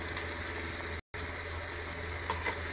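Paneer sizzles as it fries in a hot pan while Veg Pulao is being cooked, a steady faint hiss and crackle with a brief gap and a small clatter near the end.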